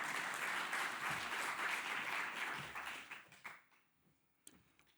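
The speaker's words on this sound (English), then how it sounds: "please give him a warm applause" A conference audience claps for a panel speaker at a sustainable shipping and aviation fuels event, a dense burst of applause that holds steady and then quickly dies away to a few last claps.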